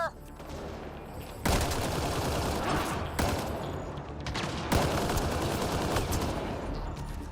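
Gunfire in Mass Effect Andromeda as a sniper is engaged: heavy, dense bursts of shots erupt in several loud waves over a steady rumble of combat, with no clear talk.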